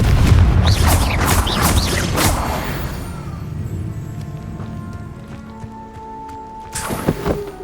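A Confringo fire-blast spell in Hogwarts Legacy lands with a heavy boom and crashing impacts that rumble and fade, then a softer thud near the end.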